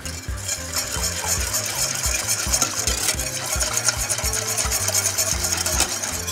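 A flan mixture is stirred steadily in a pot, giving a close, continuous run of rhythmic scraping and swishing strokes with no voices.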